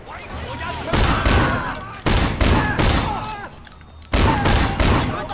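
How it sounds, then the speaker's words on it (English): Shotgun gunfire in the video game Sleeping Dogs: four loud, close blasts spaced about a second apart, each with a sharp crack and a short rumbling tail, amid game background noise. "I love this shotgun"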